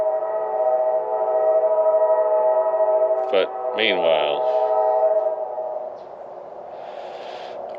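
A passing train sounds its horn, a loud sustained harmonic blast running steadily for about six seconds before fading, recorded outdoors beside a late 1999 Ford 7.3 Powerstroke diesel truck, with someone talking briefly over it.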